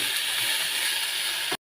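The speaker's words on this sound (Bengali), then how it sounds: "এখন শাকগুলো দিয়ে দেবো।" Leafy greens hitting a hot pan give a loud, steady sizzling hiss that runs unbroken, then cuts out sharply near the end before briefly returning.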